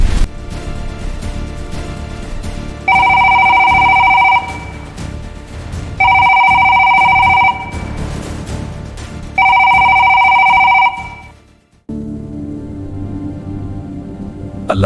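A telephone rings loudly in three long electronic bursts with short pauses between, then the ringing cuts off abruptly into quieter background noise.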